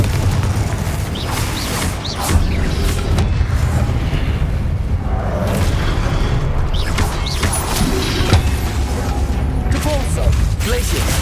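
Repeated blasting-spell explosions from Hogwarts Legacy, booming and crashing continuously amid other combat spell effects in a dense, loud battle mix.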